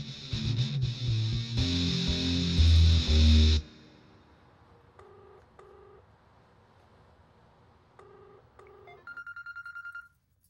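Loud music cuts off abruptly, then a telephone rings in short electronic beeps: faint paired tones first, then a quicker, louder trill near the end.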